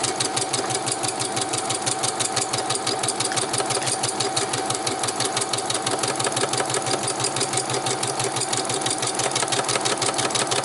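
Free-motion machine embroidery on a sewing machine fitted with an embroidery frame, stitching swirls: a fast, steady mechanical needle rhythm running continuously and close.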